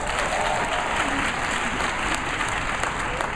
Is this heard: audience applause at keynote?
yes